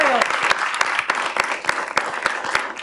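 A council meeting audience claps steadily for a young man, a dense, fairly loud round of applause from a crowded room with sharp individual claps standing out.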